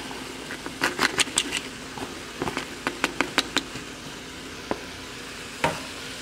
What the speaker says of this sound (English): So now we're just going to saute those right up just for about 2 to 3 minutes.